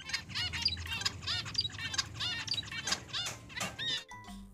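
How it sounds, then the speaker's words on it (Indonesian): Zebra finches calling, a dense overlapping chorus of short nasal honking chirps and flutter, close and fairly loud, ending abruptly. "Suaranya sangat unik teman-teman, kayak balon kekok-kekok seperti ini suaranya."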